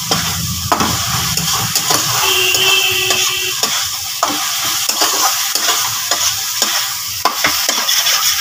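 Leafy greens fry loudly in a pan, with a continuous sizzle and hiss and the scrape of a spatula stirring at an uneven rhythm.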